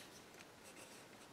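A Bic ballpoint pen writes on paper, a soft continuous scratching that is quiet and close, with no talking.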